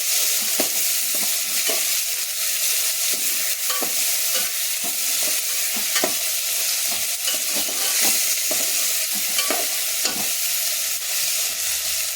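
Chopped onions and tomatoes sizzle in hot oil for a chicken biryani over a full gas flame, with steady close frying hiss and repeated clinks and scrapes of a stirring spoon against the pan, no voices.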